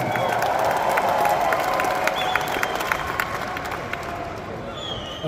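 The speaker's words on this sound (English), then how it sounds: "And you can hear the crowd's reaction to the rising star that is Ondra 42." At a Europe's Strongest Man strongman event, a large crowd cheers and claps for a Czech competitor, loud sustained roar with rhythmic clapping that slowly eases off.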